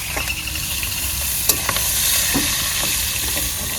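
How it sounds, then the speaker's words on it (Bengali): Onions frying in hot oil in an outdoor village kitchen: a loud, steady sizzle with occasional scrapes and knocks of stirring, close up and with no talk. "এবার পেঁয়াজটা দিয়ে দেবে তেলের পরে।"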